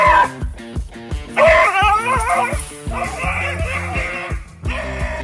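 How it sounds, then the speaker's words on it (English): A dog barks and yips in rapid, loud, close bursts at a massive iguana, with some whimpering yelps mixed in and no voices. "This dog's bark is definitely worse than its bite, as it retreats like a coward after messing with a massive iguana."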